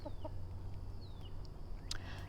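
A chicken nearby lets out a few soft clucks and short chirping calls, close but quiet, over a steady low background hum, with a brief scratchy rustle near the end.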